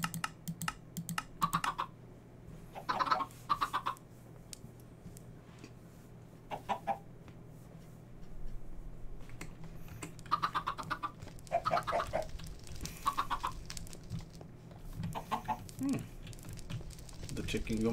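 Chickens cluck in bursts in the Minecraft Stone Block 2 modpack, over steady keyboard typing and clicking, with a person talking at times.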